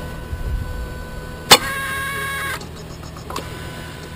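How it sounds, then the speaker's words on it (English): Yamaha outboard engine starter giving a single sharp click as the drive engages the flywheel, followed by a brief whir and then nothing, heard close against a faint background hum. "That click we heard obviously is what engages the starter drive into the flywheel, and that's all it did."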